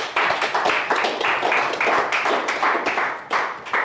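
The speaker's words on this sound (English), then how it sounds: "let's give her a round of applause" A small audience at a livestreamed talk claps for a speaker, producing sharp, fairly close hand claps in a loose rhythmic pattern that rises and dips in short bursts.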